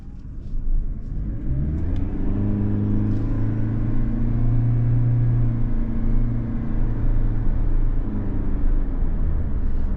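A 2024 Toyota Prius XLE accelerates in sport mode, its engine rising into a steady, loud drone that swells and holds near the listener without a break, with no talking.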